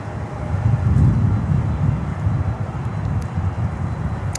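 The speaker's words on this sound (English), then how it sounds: "we have that 767 taxiing here, coming over" A LATAM Cargo Boeing 767 taxiing at Miami airport gives a continuous low engine rumble with a faint high whine, steady and moderately distant, swelling slightly around the first second.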